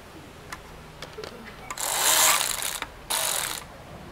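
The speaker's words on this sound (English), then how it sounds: "I just switched to a 14 millimeter deep well and a ratchet, and we'll just get her loose that way" A ratchet with a 14 mm deep well socket loosens a bolt while a Hyundai Santa Fe starter is being removed, giving scattered clicks and then two bursts of fast, close ratcheting.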